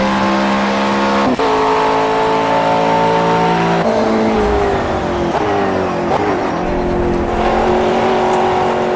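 McLaren race car in the racing game Project CARS, a loud continuous engine howl that shifts pitch through gear changes, with a brief tire squeal, and no talk over it.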